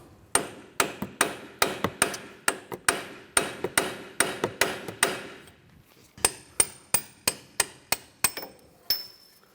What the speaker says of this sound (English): Now take a large punch and hammer right at the top of the knuckle.